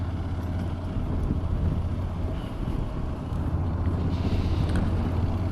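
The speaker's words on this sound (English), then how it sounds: "driving around on a bike, that's for sure" A Honda NC750X motorcycle riding on a mild day, with steady low engine drone buried under heavy wind buffeting on the microphone, loud and continuous throughout.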